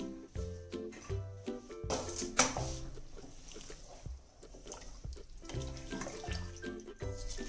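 Water poured into a cooking pot for mutton biryani rice, a close splashing and trickling stream running under background music, with faint clinks.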